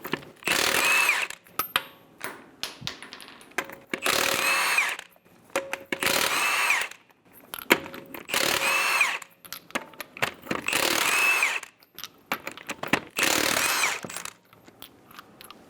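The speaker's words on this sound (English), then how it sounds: "remove the 6 lug nuts." A power tool with a 22mm socket whirs in repeated loud bursts of about a second each, spinning off the six lug nuts from the front wheel of a 2008-2017 Buick Enclave, separated by brief quiet pauses.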